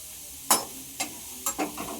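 Onions frying until brown in a pan, a faint low sizzle with a few distinct spoon scrapes and clicks from stirring, close by with no talk.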